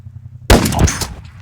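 Gunfire erupts in a Roblox shooter after a short low hum, a loud burst of rapid shots that trails off within about a second. No one speaks.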